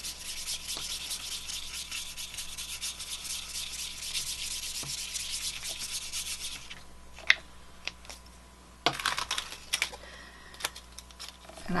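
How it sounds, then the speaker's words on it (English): A steady, close dry rubbing as an embossing buddy powder pad is swept over watercolor paper, easing off partway through into a few light taps and handling noises. "Use my embossing buddy here."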